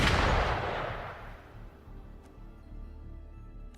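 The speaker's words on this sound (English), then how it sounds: "Gunfire! We've got intruders." Gunfire in the video game Wuthering Waves: a heavy booming blast rings out and decays over a few seconds, followed by a faint crack and a sharp shot right at the end.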